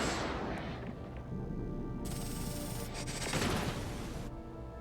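Space fleet weapons firing in Endless Space 2, a dense rumbling barrage of rapid mechanical shots and blasts with louder salvos midway, no talking.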